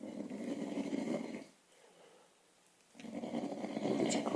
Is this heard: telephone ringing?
no